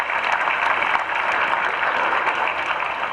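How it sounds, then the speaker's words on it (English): Audience applause at an award ceremony, a dense steady clapping from a crowd that carries on evenly throughout with no voices over it. "A special round of applause for that,"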